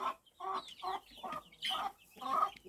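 Several chickens cluck in short, choppy bursts close by, a busy back-and-forth of hen calls with brief pauses between.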